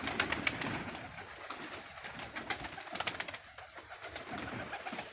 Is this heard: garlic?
no